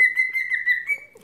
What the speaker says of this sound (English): here's my bird